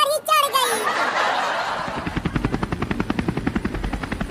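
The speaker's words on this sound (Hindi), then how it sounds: "चलो सब हेलीकॉप्टर पे आ जाओ, नहीं तो बाढ़ में बह जाओगे।" A helicopter's rotor chops in a steady, rapid rhythm, building after a brief voice and a playful sound at the start.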